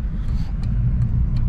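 A Fiat Marea idling with a cold engine on a street, a steady low rumbling drone holding close and loud, with a few brief faint high ticks over the top and no voices.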